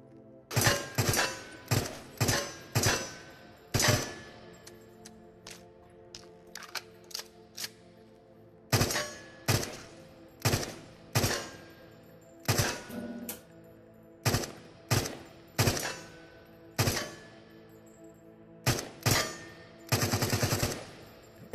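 A gun in the VR game Into The Radius empties a full magazine in evenly spaced, sharp, loud shots, each with a short ringing tail, steady and unbroken until the magazine runs dry.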